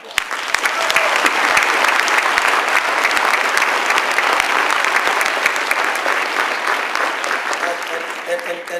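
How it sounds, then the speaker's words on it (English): Audience at a DuSable Museum gala evening applauding steadily, a dense, loud wash of many hands clapping that holds for nearly nine seconds, with some cheering mixed in before it begins to thin at the end. "So let's give them a round of applause."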